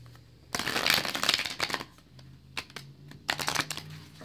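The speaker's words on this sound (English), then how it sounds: "I'm going to go ahead and shuffle" Tarot cards being shuffled by hand at close range: a long riffling burst followed by shorter papery bursts and taps, with a faint low hum underneath.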